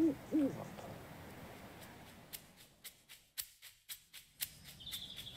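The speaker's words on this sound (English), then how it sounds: "Oh, I'm scared. Owls and stuff." Owl hooting near a country house at night, a couple of soft low hoots at the start followed by a series of sharp clicks and taps, with faint insect-like chirring in the background.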